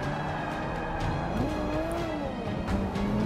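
Race cars in the Forza 5 video game roar past with sustained engine drone, gear-shift pitch sweeps and tire squeal, continuous and loud with no talking over them.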